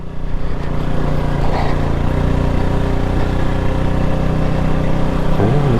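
Honda CB250RS motorcycle engine held at high revs while climbing a slippery green lane, a steady loud drone close to the microphone with no break in the engine note.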